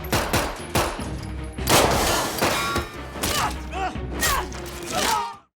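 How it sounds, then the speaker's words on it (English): Gunfire in a fight scene from the series Citadel: loud bursts of rapid shots and impacts come in several clusters, with clangs and thuds between them and no clear talk. "Shots are fired, legs are stabbed"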